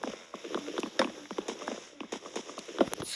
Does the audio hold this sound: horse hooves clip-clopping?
yes